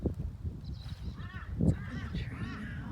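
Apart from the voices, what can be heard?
birds calling outside, crows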